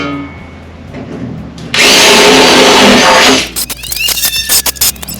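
A power tool with a 3/8 drive tightens fender bolts on a Jeep Wrangler JK: a loud, steady motor whine for about two seconds, followed by a run of short, rapid rattling bursts up close.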